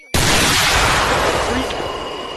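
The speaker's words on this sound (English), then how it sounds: "Why did a laser beam play?" A loud burst of a laser-beam sound effect in a goofy comedy skit, a sudden broad blast that sustains then slowly fades, with no talk over it.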